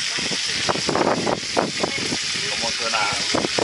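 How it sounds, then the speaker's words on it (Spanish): Freshly caught barracuda frying in a pan outdoors, giving a steady hissing sizzle that runs throughout while someone talks over it. "Estamos fritando el pescadito."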